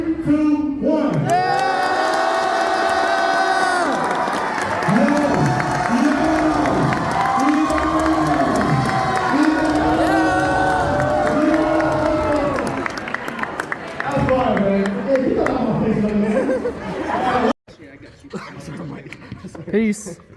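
A high school assembly crowd in a gym cheers and shouts loudly, with many voices chanting and yelling in rising and falling waves. Laughter mixes in before the noise cuts off abruptly, leaving quieter chatter.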